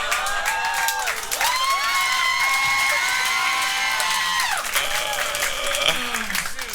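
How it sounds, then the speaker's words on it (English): Clapping from a comedy club audience carries on beneath a voice that keeps talking over it, a loud continuous patter with scattered whoops. "Not a lot of laughter, more clapping, but I'll take that."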